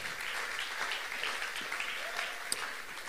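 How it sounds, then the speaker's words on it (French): An audience claps steadily after a presentation, a dense, even patter of many hands that holds throughout. "Est-ce qu'on peut applaudir JM pour sa super présentation?"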